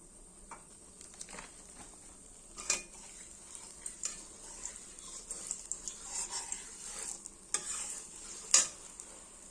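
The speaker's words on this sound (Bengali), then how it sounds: "কড়াই গরম হয়ে গেছে। দিয়ে দিচ্ছি সর্ষের তেল" Mustard oil in a hot wok sizzles softly while a utensil stirs and scrapes against the pan, giving scattered clinks and louder scraping bursts over a quiet, steady hiss. No one speaks.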